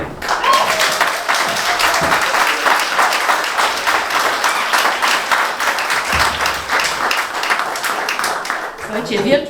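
Dense applause and clapping from a crowd at a winter sea-swimming club gathering, continuous and loud throughout, with voices mixed underneath.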